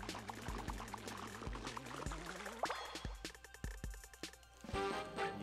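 Teapot being squeezed so it pours in the video game Paper Mario: Color Splash, a stretch of liquid glugging and pouring with a rising squeak over a rhythmic, plucky background music beat.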